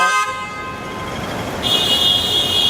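Car horns honk over Hong Kong street traffic: a sustained, bright horn tone rises above a steady hum of engines, then a second, higher horn blast joins partway through, close and loud with no talking.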